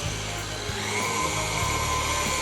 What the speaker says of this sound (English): Okay, I stopped the mixer